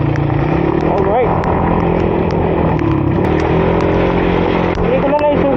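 A Honda ADV 150 scooter rides through floodwater, its engine droning steadily and loud close up, with water splashing and churning the whole time.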